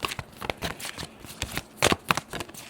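Angel oracle cards are shuffled in a quick run of crisp riffling and slapping bursts, up close, with no talking.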